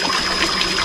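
Water gushes and trickles steadily from an inverter-driven water pump on a hybrid off-grid solar setup as it restarts, a close, loud, continuous flow with no voice over it.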